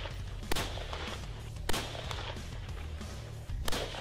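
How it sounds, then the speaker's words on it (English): A gun fires three sharp, loud individual shots, spaced one to two seconds apart, over a low steady background rumble. "I'm just going to shoot really fast."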